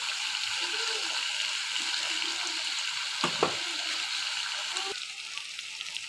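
Pieces of taro frying in oil, a steady, close frying hiss with faint crackles and a brief clatter midway, no voices.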